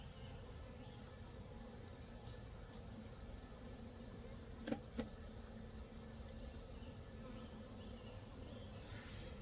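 A constant low buzzing drone of many honey bees hums steadily nearby, with a couple of faint clicks partway through.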